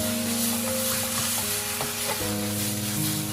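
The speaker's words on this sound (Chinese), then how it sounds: "把所有的调料炒至融化" Seasonings being stir-fried in a wok for fried noodles, a steady sizzle with scraping stirs and a couple of sharper clanks, close and continuous with no talking.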